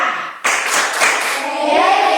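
A burst of many hands clapping together in a rhythmic clapping routine, dense and energetic, continuing without a clear pause from start to finish.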